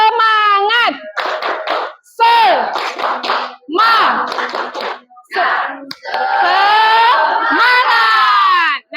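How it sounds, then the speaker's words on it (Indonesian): A classroom of children performs a rhythmic clapping chant, shouting in unison between sharp patterned bursts of hand claps, loud and close, with several stop-start rounds and a longer sustained cheer at the end. "Tepuk semangat"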